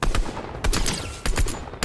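Long-range gunfire in a shooter video game, several sharp bursts of rapid shots in quick clusters separated by short gaps, loud and close with no talking.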